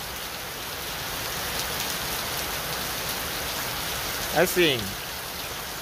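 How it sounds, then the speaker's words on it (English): Heavy rain pours over a stadium construction site at MTN Omondi stadium, a steady loud hiss of drops on surfaces, with a voice briefly speaking near the end. "it is raining heavily"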